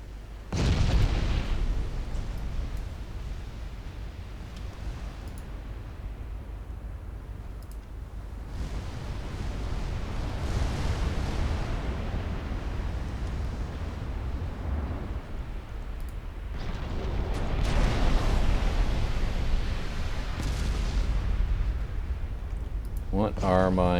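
Big guns of German High Seas Fleet battleships and cruisers firing in a naval strategy game, with deep, rolling booms swelling at the start, around the middle and near the end over a constant low rumble.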